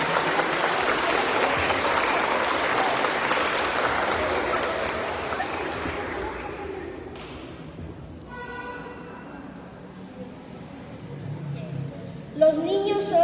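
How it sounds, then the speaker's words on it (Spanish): Applause from the audience at a children's book-reading event at a school gathering. It is dense and steady for about six seconds, then thins into scattered claps and murmuring, with a louder knock near the end. "Aplausos, por favor."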